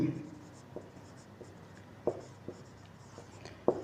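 Chalk or a marker writes an answer on a classroom board in a few short, scratchy taps and strokes. The strokes are faint over a quiet room hum.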